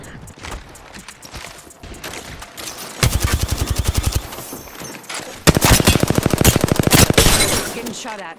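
Rapid machine-gun fire in a shooter video game hammers at the player in two long, loud, evenly spaced bursts, over a busy low game soundscape.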